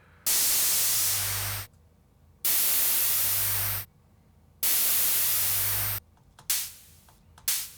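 Bursts of broadband white noise shaped with a free spectral plugin as a special effect: three loud, sustained hissing blocks of about a second and a half each, cut off abruptly by silence, then two shorter, fading noise bursts at the end.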